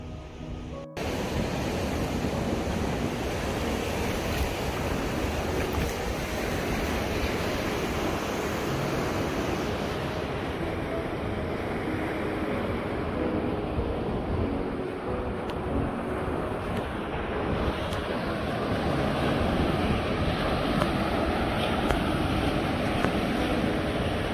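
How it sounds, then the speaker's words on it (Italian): Sea waves roll onto a beach near Agrigento, Sicily, a continuous broad roar of surf mixed with wind buffeting the microphone, loud and steady throughout with no talking. "stai attento alle onde"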